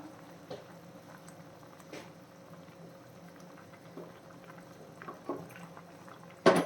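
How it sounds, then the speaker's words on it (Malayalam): Homemade fish curry gravy made with roasted ground coconut simmers in a pot, bubbling and popping steadily with a few louder bursts and a sharp final pop. No talking. "ഗ്രേവി ശകലം കൂടെ നമുക്കൊന്ന് തിളച്ച് കിട്ടിയാൽ മതി"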